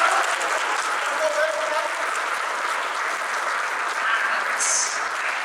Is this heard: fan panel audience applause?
yes